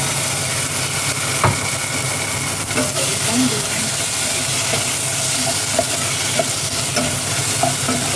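Pork liver hits a pan with ginger and sizzles, a loud, constant frying hiss with occasional small pops and scrapes, and a voice talking faintly underneath.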